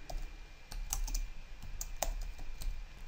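A file name is typed on a computer keyboard while exporting an MP3 from the Audacity audio editor: quick, close, irregular key clicks and taps in a quiet room.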